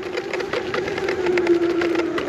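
A Vsett 8+ electric scooter with dual 600W motors climbs a wet grass hill, its motor giving a steady, close, high-pitched whine that strengthens slightly as it pulls upward.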